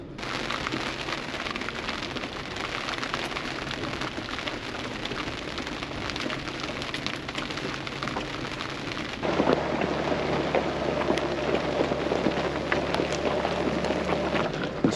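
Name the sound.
rain falling on a mountain shelf road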